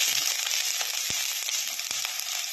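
Chopped onion and green chillies sizzle and crackle vigorously in hot oil, a close, continuous frying hiss with a couple of sharp pops, and no talk.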